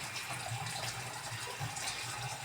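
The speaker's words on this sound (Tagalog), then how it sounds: "Lalagay lang natin ng tubig dito sa lababo" Tap water running steadily into a kitchen sink, a continuous, moderately quiet hiss and splatter with no one speaking.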